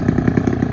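A small motorcycle engine strains under a load on a village road construction site, its close, loud, pulsing drone steady for under a second.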